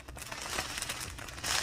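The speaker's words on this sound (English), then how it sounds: "And apologies for the crinkling noise that you're hearing." Plastic packets of diamond painting drills crinkling close up, a short burst of soft rustling and crackling handled near the microphone with no talk.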